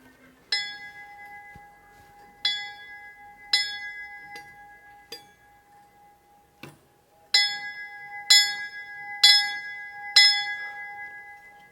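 A small chapel bell, the original one still in place, rings with single bright strikes spaced a second or two apart, each leaving a clear lingering hum, then a quicker run of four strikes near the end.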